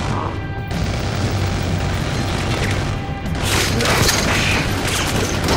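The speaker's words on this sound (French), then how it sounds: "Pouh, voilà l'explosion." A large explosion in the video game Battlefield Hardline, a loud sustained blast with rumbling debris and crackling that stays dense and close for several seconds.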